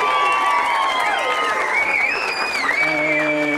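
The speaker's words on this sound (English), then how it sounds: "He wants you to clap louder." Young children at a magic show clap harder in a sustained burst, with squealing, shouting kids' voices layered over the clapping throughout.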